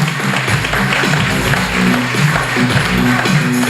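Audience applause at a debate on solutions journalism as participants are invited onto the stage; dense, steady clapping fills the room for several seconds with faint voices underneath.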